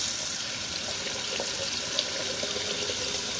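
Cold water runs steadily from a tap over a scored glass bottle, a continuous close, even splashing rush with no talking.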